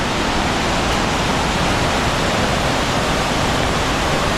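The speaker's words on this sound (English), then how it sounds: "Mai waterfall, Chiang Mai" A powerful waterfall in Chiang Mai, with water bounding over the top, makes a steady, loud, close roaring rush of broadband water noise that holds constant throughout with no talking.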